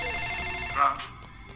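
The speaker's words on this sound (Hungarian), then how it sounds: "Csörög a telefon." A telephone rings inside the LEGO Jurassic World video game, a short electronic trill lasting about a second with a brighter burst near the end, heard over busy game music and effects.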